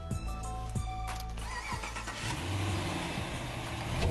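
A Chevrolet Camaro V8 cranks and fires up, the starter whine giving way to a deep, steady idle rumble that grows slightly louder, close by with no talk.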